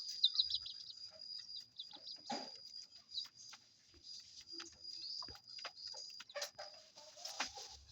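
Chickens from a cross of jungle fowl with hens cluck and call in short scattered bursts, fairly close and moderately loud, with quiet gaps between calls.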